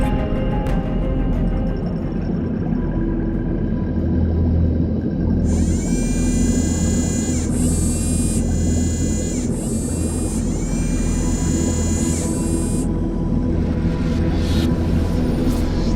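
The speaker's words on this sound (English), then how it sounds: "MiniBooster wire cutting." A MiniBooster HC2W stainless steel hydraulic intensifier cuts steel wire subsea. A constant low rumble carries a run of loud, high whining pulses through the middle, then the rumble continues alone.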